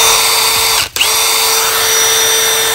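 A cordless Milwaukee power drill whines loud and steady at high speed, briefly dropping out for a moment near the middle before spinning back up to full pitch, with no talk over it.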